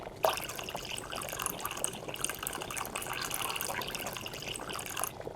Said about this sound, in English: First, I will use water as the base for our potion.